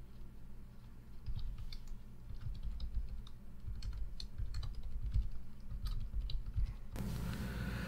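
Rapid, uneven keystrokes from a wired USB keyboard hooked up to an Apple iPad clatter close by against a low background hum, ending in a sudden burst of broadband noise.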